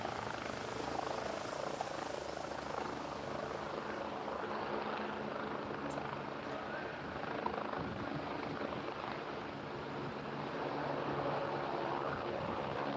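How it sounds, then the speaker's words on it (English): A helicopter flies near Birmingham Airport, its steady rotor and engine drone holding faint and even for the whole stretch, with no talking over it. "We've got a helicopter somewhere around that we can hear at the moment."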